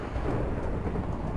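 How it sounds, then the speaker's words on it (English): Low, dense rumble of thunder with a rain-like wash spread evenly across the brief moment, steady and fairly loud with no voices. "I just heard thunder."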